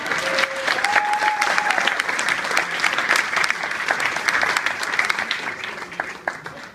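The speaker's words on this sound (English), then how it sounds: "But for now, he'll have to settle for a round of applause." A round of applause at a family speech, steady and dense clapping that fills the whole stretch, with a brief whistle-like tone early on and a few shouts mixed into the crowd.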